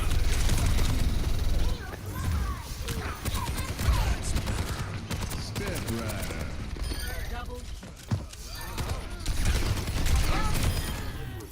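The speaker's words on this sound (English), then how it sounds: "Tried to shoot the Sombra through the wall." Gunfire in an Overwatch 2 match: dense, loud bursts of rapid shots and impacts run almost without pause, with a person talking over the fight.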